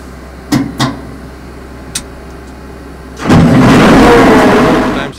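A car engine is started: a few sharp clicks and knocks, then it catches and settles into a loud, close, steady roar that runs to the end.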